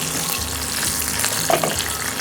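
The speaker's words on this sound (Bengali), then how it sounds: "এবারে মনে হয় আলুটা ভাজা হয়ে গেছে" Potatoes fry in oil for a Bengali rohu fish dish, a loud, close, continuous sizzle with occasional stirring scrapes and a sharper crackle midway.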